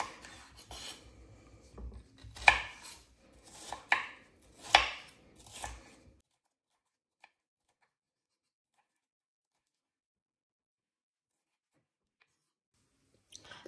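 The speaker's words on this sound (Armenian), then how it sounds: "ապա կտրատում եմ, երկարավուն եմ կտրատելու բոլոր բաղադրիչները" A knife chops peppers into long strips on a board, a handful of sharp cuts in quick bursts, then the sound stops and near silence follows.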